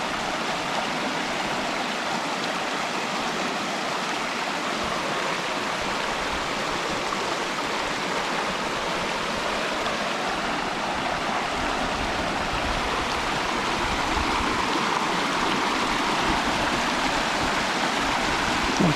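A mountain river in Combe Laval in the Vercors rushes in a steady, broadband wash of flowing water, close and continuous throughout with no voices.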